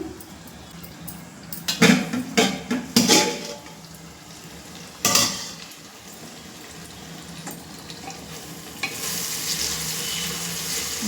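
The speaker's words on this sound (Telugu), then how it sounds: "బాగా ఫ్రై అయిపోయిందండి ఆనియన్స్ కూడా చాలా మెత్తగా ఉడికాయి" Onions frying in a pan on medium flame for gonguura chicken biryani: a soft, steady sizzle broken by a cluster of sharp stirring clatters early on and again midway, then a brighter hiss toward the end, no voices.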